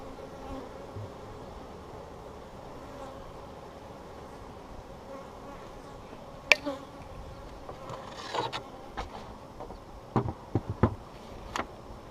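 Gentle honey bees buzzing around an open hive during an inspection done without smoke, a faint steady hum with a few sharp clicks and knocks of handling near the end.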